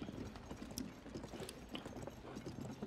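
A horse in Zelda: Tears of the Kingdom, hauling a block behind it, clip-clops with a steady, even hoofbeat rhythm that stays fairly quiet under a faint game background.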